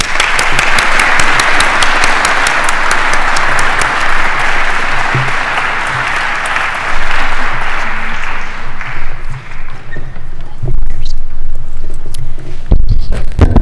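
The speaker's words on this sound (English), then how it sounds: "let us all give our special guests a special round of applause." A large audience at a naturalization ceremony applauds loudly and steadily, the clapping thinning out toward the end with a few scattered claps and low murmurs.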